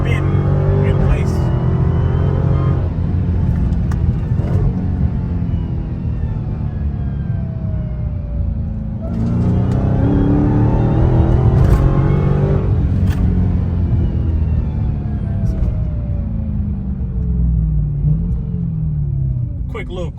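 A widebody Dodge Hellcat Charger in track mode accelerates hard, its deep engine rumble loud and close throughout, swelling in two surges, with someone talking over it.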